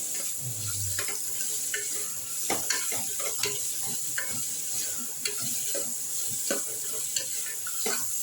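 Onions stirred and roasting in a pan, a continuous sizzle broken by repeated scraping and knocking strokes of the spatula at an uneven rhythm, close and fairly loud.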